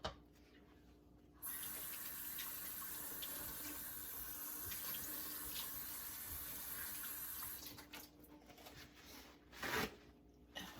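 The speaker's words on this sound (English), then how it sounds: "I just did my little trick with the sink, with the faucets to get that onion smell off of me" Water from a kitchen sink faucet runs steadily as hands are washed, a close, constant rush that cuts off, followed by a few wet splashes and taps.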